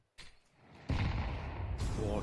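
A grenade blast and gunfire rumble through a Counter-Strike match at IEM Krakow, starting with a sharp burst and then a sustained heavy roar, under a commentator's voice.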